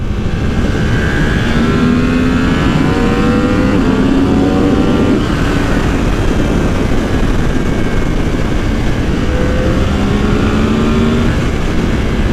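A 2020 Yamaha R1 sport bike engine pulling hard, heard as a loud, steady roar with rising harmonic tones that sweep upward, dip, and then climb again, under heavy wind rush.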